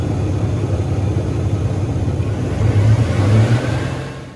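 A truck engine, with its alternator under load, revs up from a steady idle, its rumble swelling louder toward the end before easing off, close and alone without voices.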